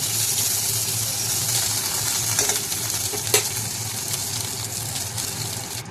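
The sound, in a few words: kundri (ivy gourd) frying in pan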